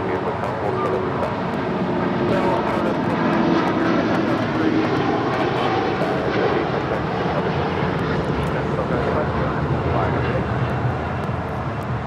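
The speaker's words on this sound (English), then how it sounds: "This is a 787-9 Dreamliner taking off to Tokyo Narita." A Boeing 787-9 Dreamliner bound for Tokyo Narita takes off at LAX with a loud, sustained jet roar, steady and fairly close throughout, with voices speaking over it.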